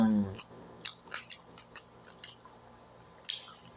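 Crisp, sharp crunches of someone chewing crunchy baked chicken up close, a scattered series of distinct bites and chews with quiet pauses between.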